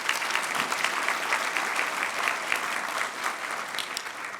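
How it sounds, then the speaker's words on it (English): Audience at a chamber of commerce annual anniversary dinner applauding steadily, a dense, continuous wash of many hands clapping close by, with no voices on top. "Let's give them one more big round of applause."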